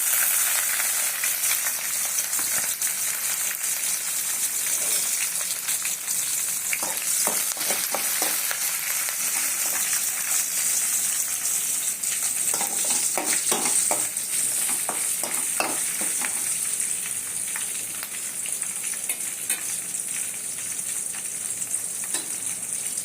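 Garlic and green chillies frying in oil, a steady bright sizzle lasting throughout, with bursts of scraping and stirring clatter rising in the middle stretch.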